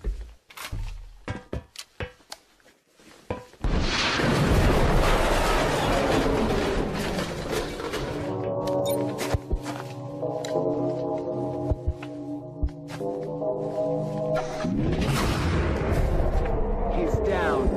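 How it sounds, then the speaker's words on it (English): Rockets launch and explode in an animated sci-fi action movie, with booming blasts and a roaring whoosh over a sustained rumbling score, loud and dense throughout, with brief spoken lines near the start. "Rockets away."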